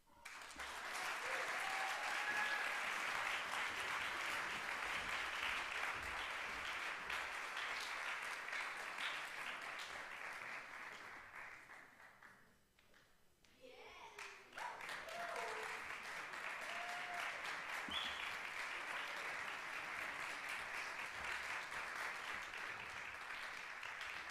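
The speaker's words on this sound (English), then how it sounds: "Please give them one more round of applause" An audience at a music school convocation applauds steadily for a long stretch. The clapping fades briefly around the middle, then swells again into dense, sustained applause heard from within a hall.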